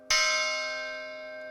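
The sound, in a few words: cast bell ringing a single note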